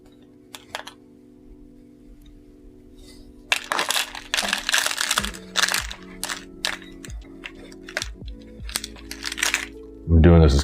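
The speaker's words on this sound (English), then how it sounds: "we can more carefully pull this out of the pot" Ficus retusa bonsai being worked out of its pot, scattered close knocks, scrapes and rustling soil amid a low background hum, with a louder scrape near the end.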